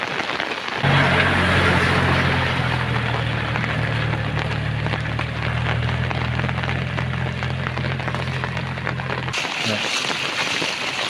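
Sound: flowing floodwater

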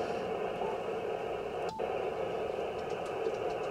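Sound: radio receiver band noise on ham radio

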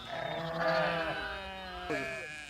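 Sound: flock of sheep bleating around a net enclosure

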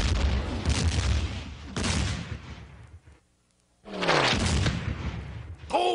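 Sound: artillery fire from an artillery range, cartoon sound effect

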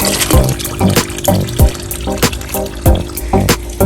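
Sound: water flowing out of koi pond sponge filter

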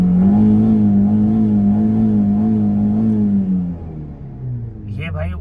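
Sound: tuned Chevrolet Beat car accelerating from standstill, engine revving

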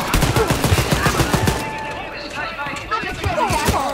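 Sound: gunfire in the video game Wolfenstein: Youngblood

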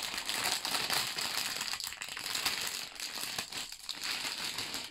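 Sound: opening a plastic LEGO parts bag

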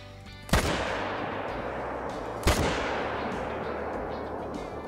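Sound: rifle shots at game animals in video game Call of the Wild

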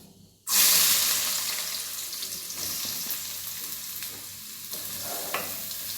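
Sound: onions frying in hot oil

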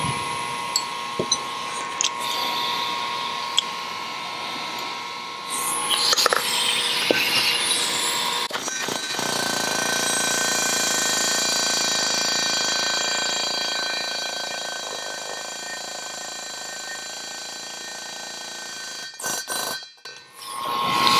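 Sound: air hammer, short stroke, fitting valve guides on Subaru cylinder head

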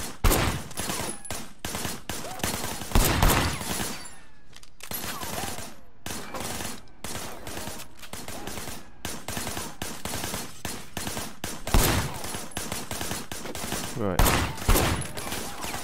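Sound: gunfire from shooting in Sleeping Dogs video game

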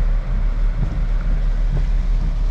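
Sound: automatic car wash spraying water on car

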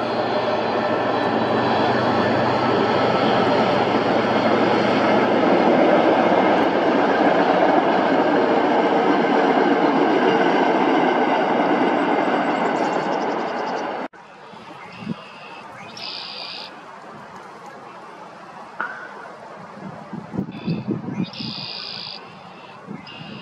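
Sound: train passing

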